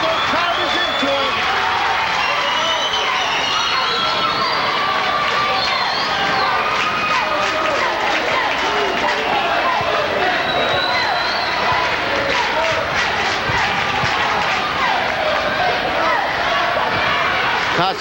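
A high-school basketball crowd in a packed gym during a 1992 state playoff game, a continuous loud roar of cheering and noise with sneaker squeaks and bounces, under an announcer's steady play-by-play.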